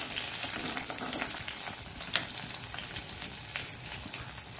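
Garlic, a cut chilli and two green chillies fry in hot oil for a Mangalore coconut milk rasam, giving a steady close crackling sizzle like light rain, with faint scattered pops and no voices.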